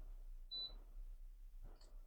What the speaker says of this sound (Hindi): आप लोगों ने बीप आवाज़ सुनी है ना, तो इसका मतलब कि सर्किट स्टार्ट हो जाता है